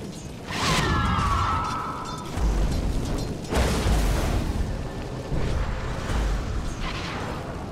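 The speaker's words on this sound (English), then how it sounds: "Dire's top tower is under attack." Tower in Dota 2 under attack: heavy mechanical impacts and explosive booms arrive in repeated bursts, with a whining rising tone early on. Loud and close, with no talk.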